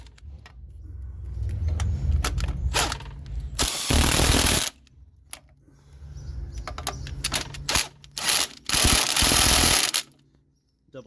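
Ratchet and wrench work tightening transmission mount nuts on an Acura Integra, close clicking and rattling in uneven bursts with louder grinding stretches and short pauses between.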